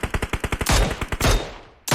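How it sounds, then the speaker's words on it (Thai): Video game gunfire: a rapid burst of loud automatic shots in even rhythm, then a few heavier blasts with echoing decay, and another shot at the end. "ฝั่งนี้ผมยังได้ยินเสียงปืนอยู่นะ"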